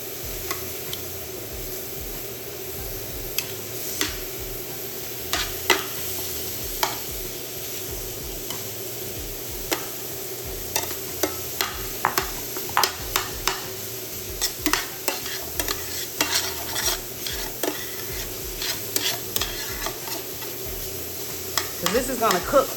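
Crab and shrimp sizzle steadily in a frying pan for crab fried rice, with repeated scraping and stirring clicks from a utensil close up, growing busier toward the end.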